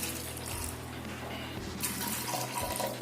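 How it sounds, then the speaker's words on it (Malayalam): Water pours into a spiced kadala (chickpea) curry gravy, a continuous rushing and splashing stream heard close and alone. "എത്രത്തോളം ആണ് ഗ്രേവി ആവശ്യം അതിനനുസരിച്ചിട്ട് വെള്ളം ഒഴിച്ചു കൊടുക്കാം"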